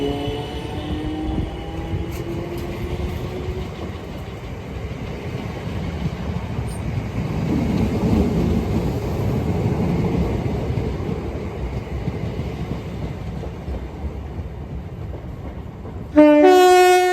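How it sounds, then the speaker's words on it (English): A Class 455 electric train departing, its motor tones rising at the start before a steady rumble of rolling wheels, then a loud two-tone horn bursts out at the very end. "we're going to cut to the train leaving"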